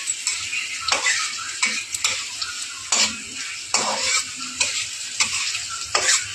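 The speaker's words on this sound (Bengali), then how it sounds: "এখানে দেওয়া হয়েছে দারচিনি, গরম মশলা, ক্যাপসিকাম। এখন এটা ভাজা হচ্ছে।" Capsicum frying in a pan with cinnamon and garam masala: a continuous close sizzle broken by regular scraping strokes of a spatula against the pan, roughly one stir per second.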